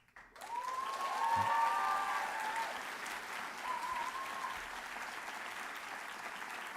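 Applause from an audience at a Champlain College Saint-Lambert graduation ceremony, a sustained wash of clapping that swells quickly and then tapers slightly, heard from some distance in a large hall.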